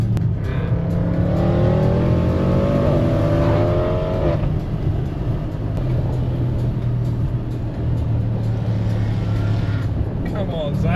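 A Mercedes C63 AMG W204 V8 cruises with a Jaguar XFR and a V8 Audi S4, its loud exhaust droning steadily and rising in pitch for the first few seconds before settling into a sustained rumble.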